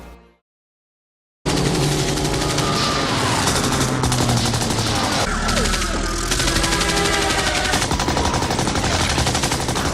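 Rapid gunfire from attacking German fighter planes in an NES Young Indiana Jones game bursts in after a short silence, dense continuous chiptune shooting and explosions layered over game music, loud and unbroken to the end.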